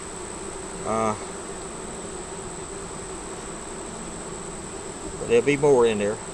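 Honeybees at a hive in winter give off a steady, close buzzing drone throughout, with someone talking briefly near the start and again near the end.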